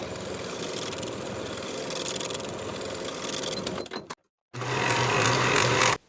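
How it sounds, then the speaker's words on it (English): A sewing machine stitches the inseams of a pair of shorts in a close, steady whirring run, stops briefly for a moment of silence, then resumes with a louder, faster hum. "Sew the inseams with a 1/2 inch seam allowance"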